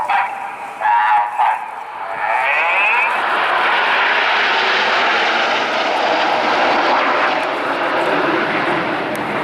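Red Arrows BAE Hawk T1 jets fly a display formation at the RIAT 2016 air show, their loud broad jet roar swelling in after a brief rise and then holding steady and close.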